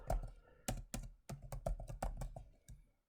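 Someone types on a computer keyboard, giving about a dozen quick, close keystroke clicks in an uneven rhythm with a few heavier thunks among them. No one talks.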